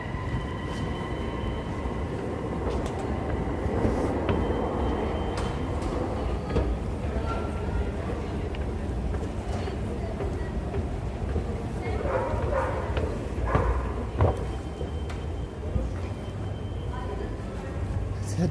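A Vancouver SkyTrain rumbles at a station in British Columbia, a continuous rolling drone with rail clatter under busy station ambience, while people talk nearby.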